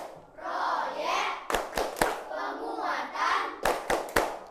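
Children clap out a rhythmic chant in a school classroom, with sung voices and sharp clustered hand claps repeating in short bursts across the clip.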